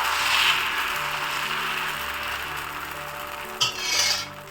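A ladle scrapes and spreads dosa batter, made with coconut and fennel, across a hot pan in a steady rasping rub, close and alone, with a brief clink near the end.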